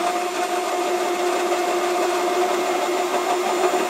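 A 3D-printed generator turning at about 500 RPM gives a steady, loud motorized whir with a constant tonal hum, running evenly throughout without voices.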